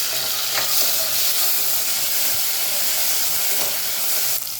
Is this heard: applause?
no